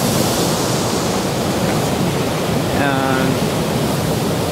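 Waves wash and splash through a tsunami wave tank model with headlands and a small channel running up a valley, a steady loud rushing surge with a brief spoken word near the start.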